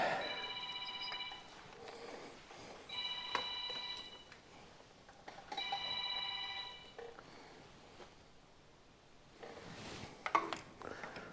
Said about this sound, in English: And there's the phone ringing away.